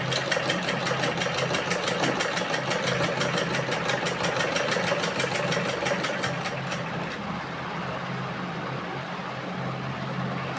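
A sewing machine stitches a folded fabric seam on a round-neck garment, its needle running in a steady, rapid mechanical rhythm close by for about seven seconds before it slows and stops, leaving a lower motor hum.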